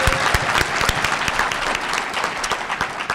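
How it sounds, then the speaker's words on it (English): Sustained, dense applause from a large audience at a school graduation ceremony, steady and loud throughout with no pauses. "I mean, that's pretty round of applause worthy, I think."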